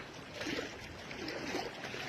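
Sea waves washing in near Kulaba fort on the Maharashtra coast, a soft, distant rolling wash of surf that swells and fades in gentle surges, quiet and without voices.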